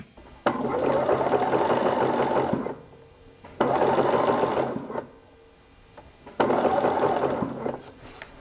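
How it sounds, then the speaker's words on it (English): Sewing machine top-stitching small gathers on a dress, running in three steady bursts of close, even whirring separated by short pauses. "here's the top stitching down of the little gathers"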